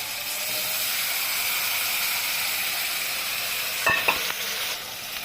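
Spice paste going into hilsa fish frying in a pan of its own released oil, a steady close sizzle with a brief burst of stirring clatter near the end.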